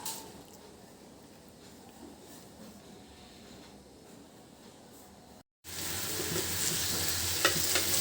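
Potatoes sizzling loudly in a pan for Bengali aloo bhaji, a steady close frying hiss with stirring, quieter at first and then much louder after a brief gap.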